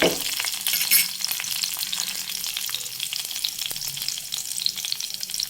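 Crushed garlic fries in oil toward light brown, a dense continuous sizzle that is loudest at first and then settles into a steady crackling hiss, close by with no talking.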